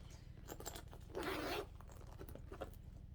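A zipper on the front of a tote bag is pulled open in one quick loud rasping stroke, close by, with small handling clicks before and after over a low hum.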